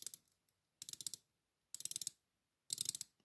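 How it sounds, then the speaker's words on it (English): The brushed stainless bezel of a Seiko diver watch ratchets as it turns, giving four short bursts of rapid, crisp clicks separated by silence, close and clear. "The brushed stainless bezel has a lovely action."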